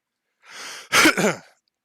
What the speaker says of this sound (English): Listen to me coughing over here.